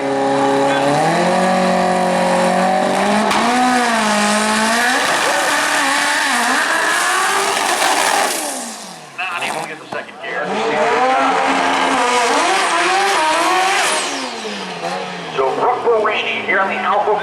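2009 GTR drag car launching at a raceway, engine roaring loud and close as it climbs through rising gear pulls with shifts, while an announcer talks over it.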